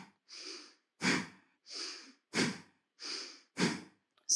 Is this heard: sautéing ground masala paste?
no